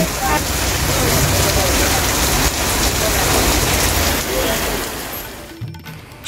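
Heavy rain pours down on a street in Gariahat, a loud, steady wash of falling water over the whole scene that thins out near the end.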